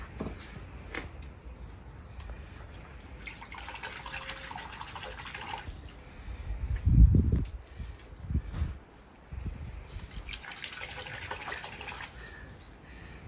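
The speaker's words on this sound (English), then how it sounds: "at the moment I'm just using a bucket of water just to clean them up." Plant roots being rinsed by hand in a bucket of water at a plant nursery, with soft sloshing and dripping throughout and a louder burst of splashing midway.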